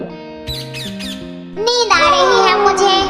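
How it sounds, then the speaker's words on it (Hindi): Caged bird squawking in a Hindi-dubbed Bob the Builder cartoon, a burst of shrill, harsh calls that swells loud near the end after brief spoken lines. "ये पक्षी बहुत शोर मचा रहा है।"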